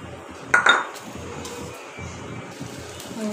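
A metal wok is set down on a kitchen stove, giving one brief loud clank with a ringing clink and a quick second knock, then quiet room tone.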